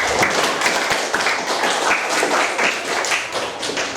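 A class of children claps for their female teacher in a classroom, a steady, moderately loud patter of many small hands that fills the room throughout.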